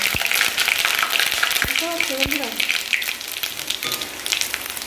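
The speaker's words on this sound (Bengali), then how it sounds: "আদা রসুনটা আমার হালকা করে ভাজা হয়ে গেছে" Ginger and garlic frying in hot oil give a dense, continuous sizzle close by, with a few sharp stirring clicks and faint talk in the background.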